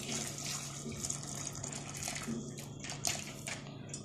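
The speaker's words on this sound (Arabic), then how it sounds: "ابتدي اللي انا انزل بالمية السخنة" Hot water poured into a pot of cow trotters, a continuous close splashing pour with bubbling turbulence and a few brighter splashes, no talking.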